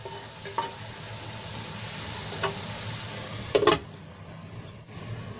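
Okra and masala sizzling in a covered pan, a soft steady fry hiss with a few faint clinks and a brief louder scrape or stir near the end.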